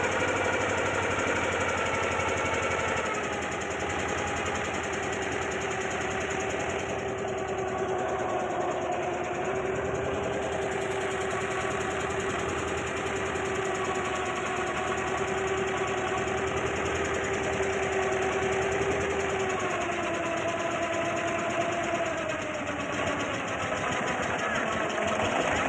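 A boat engine runs steadily throughout, a constant droning hum with a rattling, vibrating texture and a faint tonal whine, loud and continuous with no pauses.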